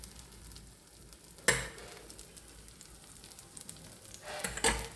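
Paddu batter fries in oil in a pan with a soft, steady sizzle, marked by a sharp crackling burst early on and another near the end, with no talking.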